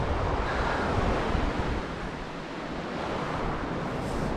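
Surf breaks and washes continuously along the Black Sea shore at Utyos, Crimea, a broad hiss and rumble with wind buffeting the microphone.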